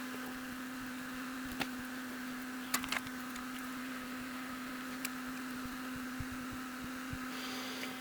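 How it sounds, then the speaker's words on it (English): A small electric fan runs steadily with a constant low hum and airy hiss, faint throughout, with a few soft clicks and knocks on top. "the noise you can hear is a little fan I've put over there"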